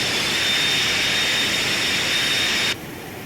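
Simulated Boeing 737-200 jet engines in X-Plane roar steadily with a loud, whining high-pitched tone that suddenly drops to a quieter rumble near the end, no voices present.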